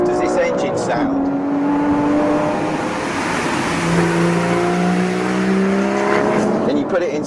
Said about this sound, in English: How nice does this engine sound?